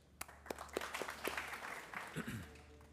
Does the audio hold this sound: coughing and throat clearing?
no